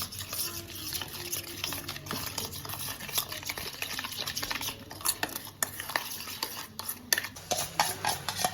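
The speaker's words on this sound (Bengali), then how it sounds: "কাশ্মীরি মির্চ পাউডার, চিনি, নুন, এগুলো সব আমি একসঙ্গে মিশিয়ে নিচ্ছি।" A spoon works Kashmiri chilli powder, sugar and salt together in a bowl for prawn biryani, making quick, close scraping and clinking strokes over a soft steady background hiss.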